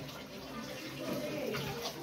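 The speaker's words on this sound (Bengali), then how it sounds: "গরম পানি দুটো দিলাম" Hot water is poured into flour dough for homemade bread, giving a soft, steady liquid pour that swells slightly midway, with faint voices in the background.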